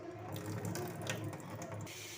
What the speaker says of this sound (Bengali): মোচাটাকে ধুয়ে নিচ্ছি ভালো করে, ঝুড়িতে জলটা ঝাড়িয়ে নেব।